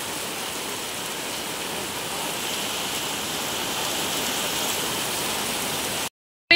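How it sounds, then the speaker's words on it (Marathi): Heavy rain pours onto a market street in Kankavli, a dense, even roar of drops on hard surfaces that holds steady and loud, then cuts off abruptly near the end. "पाऊस बघा खूपच आहे"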